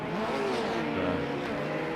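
A race car engine whines past in a Daytona 24 Hour sim race, a steady mid-volume tone with pitch sweeping up and down as it goes by.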